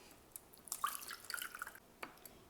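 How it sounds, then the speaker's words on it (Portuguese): Soaking water poured off cashews during vegan Christmas side-dish prep, a short spell of close dripping and splashing liquid with a few louder trickles, then a brief final splash. "nesse momento, eu vou tirar essa água, eu não quero essa água, tá? Eu vou dispensar."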